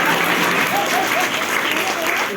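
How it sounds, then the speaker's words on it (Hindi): Audience clapping at a New Year celebration at a Brahma Kumaris centre in New Delhi, a dense, continuous burst of many hands applauding loudly throughout. "अरे तालियां बजाइए, क्यों नहीं बजा रहे यार।"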